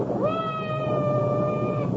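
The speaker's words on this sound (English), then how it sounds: "I hope that cat isn't trapped somewhere." A single drawn-out cat meow from an old-time radio drama, a clear rising then sustained tonal cry over a low hum of background noise.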